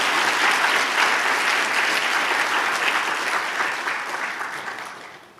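A church congregation breaks into loud, sustained applause during a sermon, steady clapping from many hands that slowly fades toward the end.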